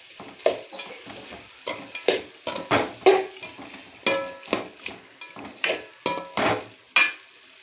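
Banana flower is stirred and sautéed in a pan: a spoon scrapes and knocks in a rapid, irregular rhythm over a faint sizzle, heard up close with no talking.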